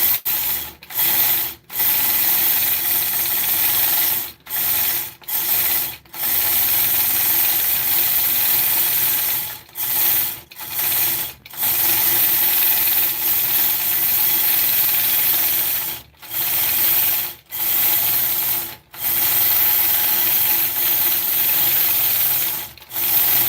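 A quilting machine stitches feather patterns in steady, continuous runs of loud mechanical whirring, broken by short pauses at irregular intervals, with no talking.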